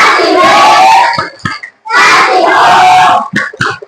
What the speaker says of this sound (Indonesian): kita kasih tepuk tangan dulu untuk kelompok 4